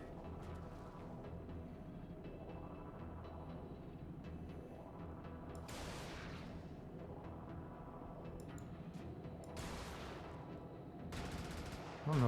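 Bursts of gunfire in the top-down mech game Brigador, repeated volleys recurring every few seconds over a steady rumbling engine and ambient drone, with a louder blast at the very end.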